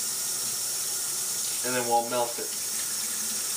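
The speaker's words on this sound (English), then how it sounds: "I just fill my sink with the hottest water I can get" Hot tap water runs steadily into a stopped-up kitchen sink with a constant bright hiss, and a voice speaks briefly over it partway through.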